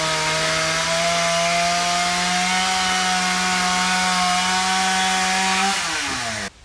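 A motorized saw cutting wood drones steadily at high pitch, holding a constant buzzing whine before slowing and winding down at the end.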